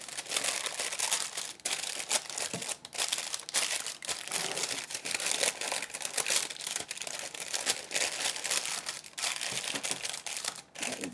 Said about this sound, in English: we're lining the dish with the parchment paper, push it down, and in each corner, you create a fold